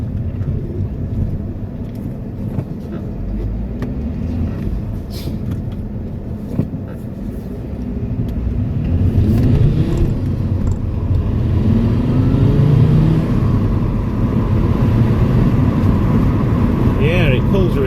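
Alfa Romeo Brera car driving on a road, a steady low engine and road rumble heard from inside that swells as it accelerates, with people talking over it.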